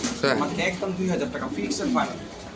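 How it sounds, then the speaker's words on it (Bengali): Female club racing pigeons coo softly in the background while people talk over them. "দুই হাজার চব্বিশ সালের বিআরপিএফসি ক্লাবের মাদি কবুতর"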